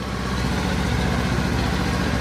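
A 2024 Kawasaki Ninja 500 STD motorcycle engine idles on a cold start, a steady low, even rumble heard up close and alone throughout.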